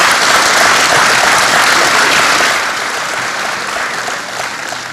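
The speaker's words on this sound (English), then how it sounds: "Round of applause, yes." Dense applause from an audience at the 2017 Rising Stars Awards ceremony, loud and steady for about two and a half seconds before easing to a slightly softer level that carries on to the end.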